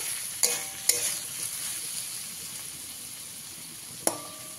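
Cooked suji with potato and carrot stirred in a pan, a soft continuous sizzle with a few sharp utensil clinks against the pan.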